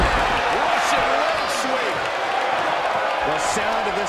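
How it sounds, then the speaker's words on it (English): Arena crowd in the WWE 2K23 wrestling game during an eight-man team elimination match, a dense, steady roar of many voices that holds without pause throughout. "The sound of this crowd is deafening, and he's asking for more."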